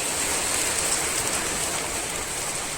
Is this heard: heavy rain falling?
yes